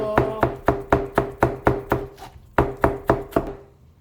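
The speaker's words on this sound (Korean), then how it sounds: "이렇게 칼질해도 되고요" Steady knife chopping vegetables on a cutting board, about a dozen sharp, evenly spaced thuds in quick rhythm, close and clear, with a brief pause midway.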